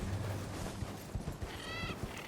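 A mount's hooves clop in an uneven gallop in Elden Ring, with a short whinny breaking through near the end over steady in-game background noise.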